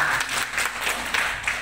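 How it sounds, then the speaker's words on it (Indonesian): Audience applause at a gathering of mothers and fathers hearing a health testimony, dense clapping from a seated crowd that swells and dips in uneven bursts, with little talk. "Tepuk tangan dulu."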